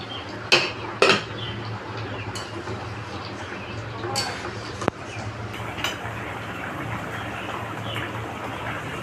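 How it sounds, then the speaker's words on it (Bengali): A pot lid comes off in a home kitchen while potatoes cook for Bengali aloo posto, giving two sharp metallic clanks near the start and a few lighter clinks over a steady low hum. "আমি ঢাকাটাকে খুলে দিচ্ছি"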